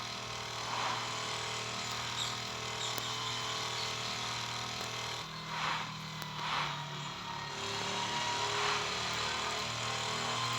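A motorbike engine in the Traffic Rider video game drones steadily and slowly gains speed, a continuous mid-level hum with a few brief swells toward the middle and no talking.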